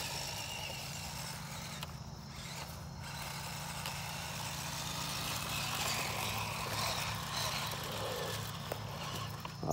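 A LDRC dual-motor 1/12 scale RTR RC Unimog runs in high gear with a faint, steady electric motor whine and gear hum that stays even throughout, heard at low level.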